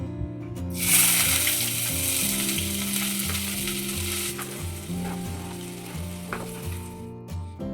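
Small-chopped onions fry in hot oil for pav bhaji, making a loud close sizzle that surges near the start and then settles, with occasional stirring clicks and a steady low hum in the background.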